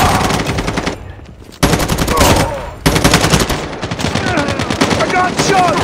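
Gunfire in the mobile shooter Call of Duty Mobile comes as loud, rapid automatic bursts, separated by short pauses and near-silent gaps.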